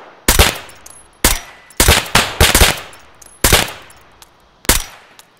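Gunfire in a video game livestream, six loud sharp bursts of shots spaced irregularly about a second apart, some rapid double cracks, with no talk over them.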